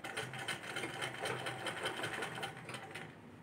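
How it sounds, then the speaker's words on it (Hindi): A sewing machine stitches pleats into net fabric for a dhoti salwar, running in a fast, steady rhythmic chatter of needle strokes at close range before easing off at the end. "यहाँ से ऐसे प्लेट बना के और इसको यहाँ से हम सिलाई कर देंगे"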